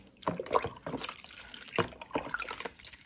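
Water trickles and splashes in short uneven bursts as orchids are watered indoors, close and fairly soft, with small drips between the pours.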